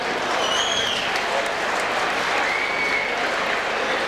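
Audience applause greets Dr. Andrew Theophilus, federal member for Caldwell, at a Croatian community gathering. The clapping is steady and dense, filling the room evenly for about four seconds without letting up.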